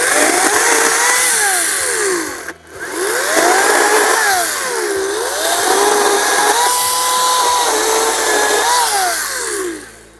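Ryobi 14-inch 40-volt brushless cordless chainsaw cutting through wood, a loud, steady electric motor whine that rises and falls in pitch as the chain bites and bogs, with a short dip midway, continuous and close for about ten seconds.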